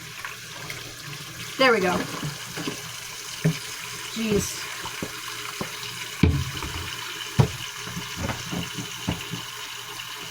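Tap water runs into a kitchen sink for washing dishes, a steady wash under scattered clinks and knocks, while a person speaks briefly.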